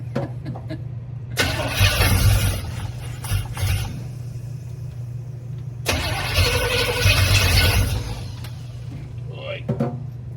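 A car engine runs steadily with a constant low rumble and rises in revs twice; people talk over it at moments, and the sound carries the feel of a classic car event setting.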